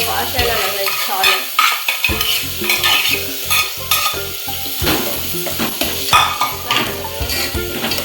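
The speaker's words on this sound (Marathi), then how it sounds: "थोडा आता तेलावर थोडा परतवून घेते" Barnyard millet rice is stirred and sautéed in oil in a pan, with steady close sizzling and repeated scraping, clinking spoon strokes against the pot, loud and continuous with no talk.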